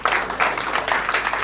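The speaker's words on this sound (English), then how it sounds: "A better round of applause for the DG." An audience at a regional consultative meeting on agricultural seeds claps in a short, lively burst of applause with uneven rhythmic pulses.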